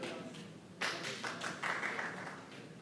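At a forum gathering, a small audience claps in support of Palestine, faint and somewhat distant, with scattered hand claps that swell after the first second and then gradually thin out.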